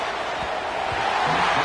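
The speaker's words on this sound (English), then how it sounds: "Listen to the crowd energy here in the early going." A dense roar of stadium crowd noise rises and swells steadily in a college football video game, continuous and fairly loud throughout the short span.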